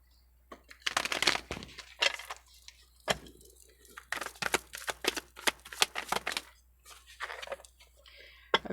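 Tarot cards are shuffled by hand, giving a run of crisp, close riffling snaps and soft taps in uneven bursts with short pauses between them.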